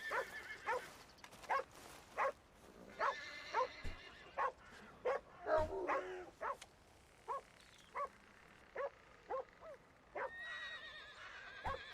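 Barking from a dog inside a western-themed video game recurs in short sharp bursts, roughly a dozen evenly spaced yaps at moderate loudness, with horse whinnies mixed in and no talking.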